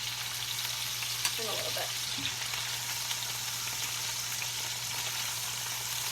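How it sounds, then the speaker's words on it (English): Chicken thighs sear in an oiled pan with a continuous, even sizzle and crackle; a voice speaks briefly over it. "We're just searing this, and we're going to put them back in"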